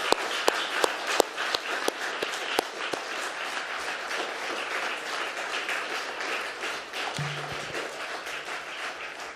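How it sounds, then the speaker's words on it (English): An audience at an awards ceremony applauds steadily, dense clapping with a few sharper claps standing out at first, sustained throughout. "So please give them a round of applause."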